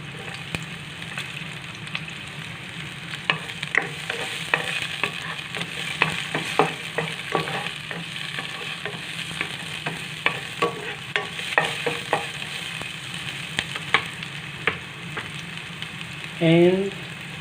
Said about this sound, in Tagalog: Then, isunod natin itong garlic.